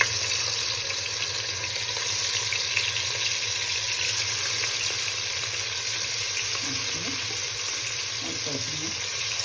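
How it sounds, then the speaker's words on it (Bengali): Katla fish frying in hot oil in a wok makes a steady, even hiss of sizzling throughout, with faint clinks near the end. "তেলটা গরম হলে মাছগুলো ছেড়ে দিলাম, মাছগুলো ভেজে নেব।"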